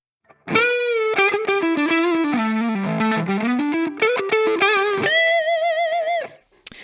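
An overdriven electric guitar played through a Fractal Audio drive block runs a distorted melodic line of sustained, gritty notes that glide up and down before ending on a held, wavering note, loud and alone.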